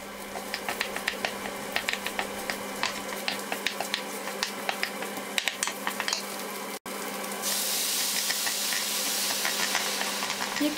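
Onion, tomato paste and pepper paste sizzling and frying in a pan, with steady crackle and sharp spoon stirring clicks, the sizzle swelling louder near the end.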